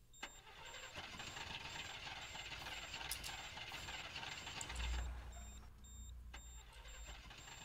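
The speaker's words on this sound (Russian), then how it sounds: "Реально не заводится." A Volvo truck engine in the trucking game Дальнобойщики 2 failing to start: a steady, grinding starter crank with ratcheting clicks runs throughout without the engine catching, alone and close.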